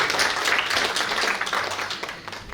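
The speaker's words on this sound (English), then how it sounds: "So big applause for that." A crowd at a nonprofit nursing community event claps enthusiastically, a loud dense burst of applause that gradually thins and fades over a few seconds.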